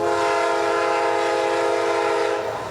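A passing train in a Beaumont quiet zone blares its horn, a loud sustained tonal blast held close for nearly three seconds before easing off slightly at the end.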